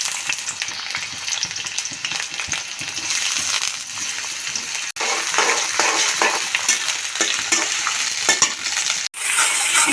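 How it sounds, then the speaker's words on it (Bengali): Chopped onions fry steadily in a pan after a bay leaf and three whole dried chillies, a dense continuous sizzle with scraping stirs, loud and close, with two brief dropouts and no voices. "আমার পেঁয়াজটাকে ভেজে হালকা নরম করে নিচ্ছি"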